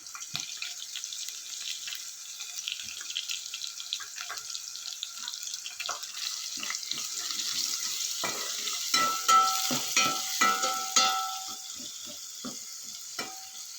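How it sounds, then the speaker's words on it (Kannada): Green chillies and chopped onions fry in hot oil, a steady close sizzle with spoon scrapes and stirring clinks growing busier toward the end. "ಮೆಣಸಿನ್ಕಾಯಿನ ಎಣ್ಣೆಯಲ್ಲಿ ಸ್ವಲ್ಪ ಫ್ರೈ ಮಾಡಿಕೊಂಡು ಅದಕ್ಕೆ ಹೆಚ್ಚಿಟ್ಕೊಂಡಿರೋ ಈರುಳ್ಳಿ ಹಾಕ್ತಾಯಿದ್ದೀನಿ"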